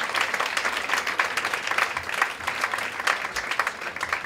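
A church congregation claps steadily in a clap offering during an Easter Sunday service, a dense, sustained round of applause from a large room with no speech over it.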